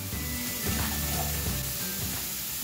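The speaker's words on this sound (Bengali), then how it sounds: "এবারে মশলাটা ভালো করে একটু নেড়ে চেড়ে কষিয়ে নেব।" Cumin and a paste of tomato, onion, ginger, garlic and green chilli sizzle in a hot pan, a dense steady hiss with a few soft stirring scrapes, close and brief.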